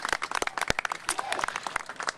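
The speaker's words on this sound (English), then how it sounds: "Another round of applause for the great council members." An outdoor crowd at a Los Angeles bridge celebration claps for council members, making a short, irregular burst of many claps of uneven loudness at middle distance.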